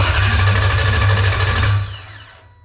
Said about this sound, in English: but the engine does crank over.